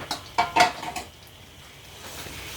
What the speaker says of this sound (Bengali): গুড়টি একটু ভালোভাবে নেড়ে নিচ্ছি।